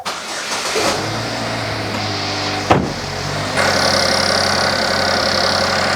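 Car engine cranked and started, with a brief whirring starter, a sharp catch as it fires, then a steady, fairly loud idle hum for the remaining seconds.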